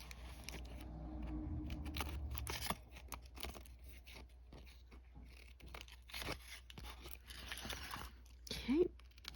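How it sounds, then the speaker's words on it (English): Small mini snips trimming overhanging paper edges on a mini mixed-media junk journal: a few quick, faint snipping clicks beneath a quiet voice. "I'm just going to take the mini snips and just quickly snip off the pieces that are hanging over the edge"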